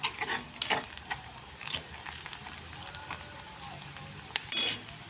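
Onion fries quietly in a pan for a chicken sukka dish, with a soft, steady sizzle broken by scraping clicks of a spoon stirring at irregular moments.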